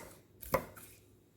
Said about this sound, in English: now I'm going to cut up my bacon in small bite-sized